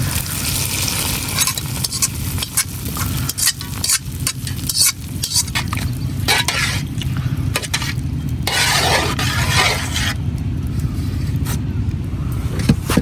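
Fried onion, garlic and hot oil hit bottle gourd in a pan as a tempering, a loud close sizzle with stirring and scraping that rises and ebbs over several seconds, no talking.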